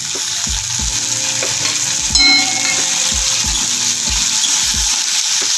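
Steady sizzling of tomatoes and two green chillies frying in oil, with a few spatula scrapes and stirring knocks against the pan at irregular intervals.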